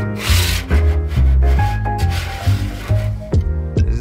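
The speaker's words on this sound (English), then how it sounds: "After I get everything scraped down as well as I possibly can with just the bench scraper" A bench scraper scrapes the surfaces of a barbecue smoker in rough, repeated strokes, each a close, loud grinding rasp that comes in steady rhythm.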